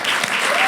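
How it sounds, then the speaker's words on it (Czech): Dense audience applause at a live Czech stand-up comedy show, a steady wash of many hands clapping loudly throughout. "Tady už mi obvykle lidi tleskají a je vidět, že to publikum je fantastický."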